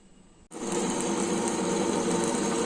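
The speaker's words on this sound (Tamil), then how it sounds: "எல்லாத்தையும் ஒன்றா போட்டு அரைச்சிக்கலாம்." A wet grinder starts up with soaked millet, urad dal and rice inside, a steady loud whirring churn that begins abruptly and runs evenly without pause.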